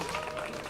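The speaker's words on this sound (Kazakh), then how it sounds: "Шапалақ." A studio audience on a Kazakh TV quiz game show breaks into a brief burst of dense, steady applause.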